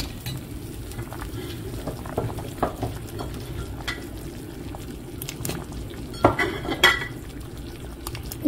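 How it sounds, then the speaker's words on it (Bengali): Cut potatoes go into a pot of chicken curry cooking with yogurt and green chilies, giving a low bubbling simmer with a few clinks and scrapes of a utensil against the pot. "কেটে ধুয়ে রাখা আলুগুলো দিব।"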